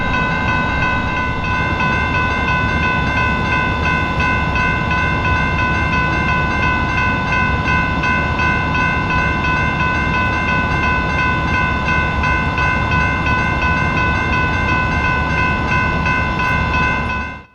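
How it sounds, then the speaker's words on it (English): A Norfolk Southern local train stopped at a railroad crossing whose gates are broken, with a loud, continuous idling rumble and a steady tonal drone that run unbroken for about seventeen seconds before cutting off. "The second stop of the sequence would come with the train right at the crossing."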